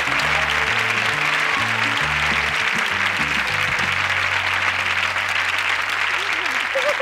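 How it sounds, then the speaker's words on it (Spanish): A television studio audience applauds loudly and continuously as a comedian's act begins on a variety show, while band music plays underneath through the first half. "quiero que le reciban con un fuerte aplauso"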